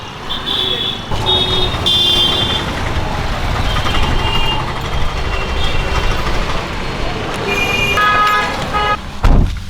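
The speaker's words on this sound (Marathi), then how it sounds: "आज शुक्रवार आहे आणि त्यामुळे फुल ट्रॅफिक आहे" Heavy street traffic on a Friday market day, with engines rumbling continuously and repeated car and bike horns tooting near and far, some in quick bursts.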